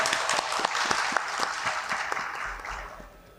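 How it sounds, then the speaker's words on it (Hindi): Audience applause at a sports legends session of an Urdu literary conference in Karachi, dense clapping with distinct sharp claps standing out, gradually thinning and fading toward the end. "आपकी भरपूर तालियों में इस्लाउद्दीन सिद्दीकी साहब।"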